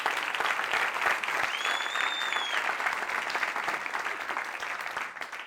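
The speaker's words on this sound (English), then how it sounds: "Give Louisa a round of applause." A live comedy show audience gives a sustained round of applause, dense steady clapping from a crowd that holds for several seconds before tapering a little.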